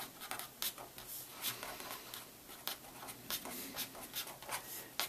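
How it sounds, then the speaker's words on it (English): Pen writing on paper, a soft, close scratching with quick strokes and small taps in an irregular rhythm, faint and continuous. "So let's write that down."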